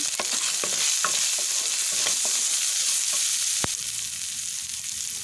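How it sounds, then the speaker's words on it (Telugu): Ginger garlic paste frying in hot oil, giving a loud, continuous crackling sizzle with a few spoon scrapes and clinks over it. "ఇలా అల్లం వెల్లుల్లి పేస్ట్ కూడా ఆయిల్లో వేగిన తర్వాత"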